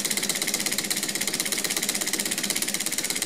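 A 3D printed Stirling engine runs at a steady, fairly quick pace, giving off a continuous close mechanical whir with an even, rapid ticking pulse throughout.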